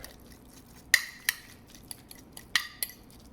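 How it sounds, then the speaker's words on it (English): A metal fork clinks lightly against a bowl while mixing minced parsley, with a few sharp, scattered taps over a quiet, faintly rustling background. "I'm going to just mix it with a fork so I can break it down a little bit further"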